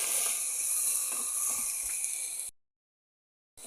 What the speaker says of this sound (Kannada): ಈಗ ಟೊಮೆಟೊ ಎಲ್ಲ ಹಾಕಿ ಫ್ರೈ ಮಾಡಿ. ಚೆನ್ನಾಗಿ ಫ್ರೈ ಆಗಲಿ, ಡೀಪ್ ಫ್ರೈ ಮಾಡಿ.